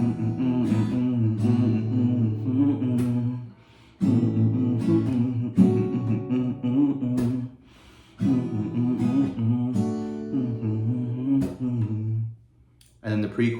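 Acoustic guitar strums the chord progression of a song in bursts of rhythmic strumming, broken by short pauses between phrases, played close and clear.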